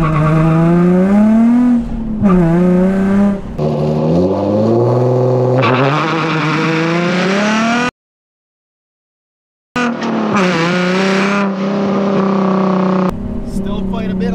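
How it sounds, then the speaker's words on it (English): Nissan 350Z launches hard from about 2,000 RPM, its engine roaring up through rising revs with tires squealing and wheel hop chatter, a brief silence, then another loud launch with tire scrub; a voice is heard too. "Still quite a bit of wheel hop"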